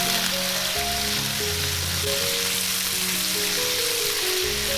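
Chicken pieces and ginger slices sizzle loudly and steadily in a hot wok, a dense unbroken frying hiss with faint music underneath.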